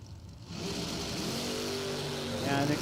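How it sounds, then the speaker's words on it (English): A Chevrolet Nova drag car pulls away from the start line at a doorslammer drag race, its engine a loud sustained roar that climbs in pitch, quite distant and mixed with crowd-area noise. "Love watching this Nova leave the start line."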